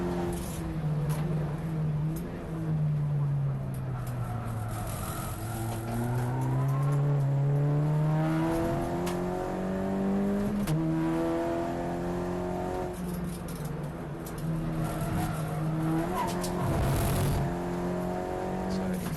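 Audi TTCR touring race cars howl around the Snetterton circuit, engines rising and falling through gear changes as they pass, with a commentator talking over the racing throughout.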